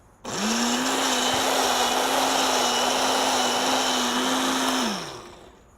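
A blender motor whirs steadily for about five seconds as it chops chilies for a yellow salsa, starting abruptly, holding a constant pitch close and loud, then spinning down, with no talking.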